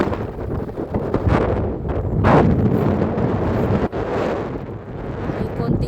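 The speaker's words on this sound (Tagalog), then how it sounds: "Mahangin." Gusting wind at Myrdalen ski resort in light snow buffets the microphone with a loud, rough roar that swells and fades, with a couple of sharper thumps.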